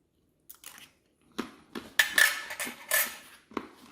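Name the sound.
crunchy cracker being eaten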